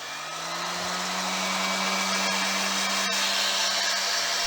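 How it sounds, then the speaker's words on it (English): A Pifco hairdryer runs continuously, a steady close whirring drone with a low underlying hum and airy hiss that holds unchanged throughout. "that noise was probably generated by your sister's Pifco hairdryer"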